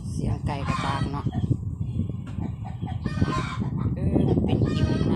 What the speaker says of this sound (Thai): เสียงไก่กระตากเนาะ